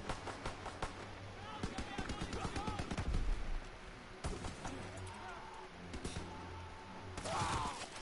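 Rapid automatic gunfire with incendiary rounds in a WW2 video game, dense bursts of shots running through most of the stretch with one heavier thump partway, while players talk over the shooting.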